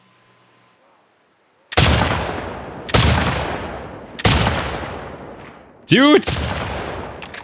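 Four heavy, booming gunshots ring out one after another about a second apart in The Last of Us Part II, each with a long echoing decay, following a near-silent opening, with a short exclamation in the midst.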